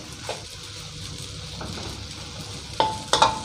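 Glass noodles stir-fried with pork, egg and cha-om in a pan over medium heat, giving a soft ongoing sizzle, then a few sharp clinks and scrapes of utensil on pan near the end, close up and without speech.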